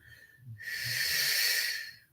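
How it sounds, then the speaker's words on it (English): A dog snoring under a desk: a soft, breathy rasp swells and fades over a couple of seconds, with faint low murmuring underneath. "Can you guys hear my dog snoring under the desk?"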